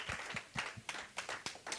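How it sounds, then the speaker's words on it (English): Separate hand claps from a church congregation at a youth tour session, about eight sharp claps in a loose, uneven rhythm, fairly close and loud with no talk over them. "Clap your hands"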